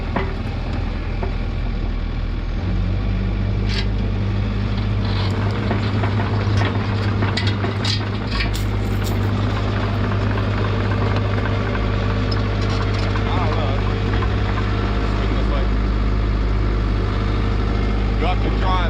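A Ventrac 4500z tractor engine runs steadily close by and rises in pitch as the throttle opens, holding a loud, continuous drone throughout.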